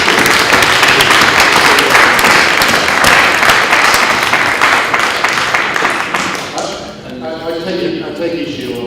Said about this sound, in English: I think we should give Brian a round of applause.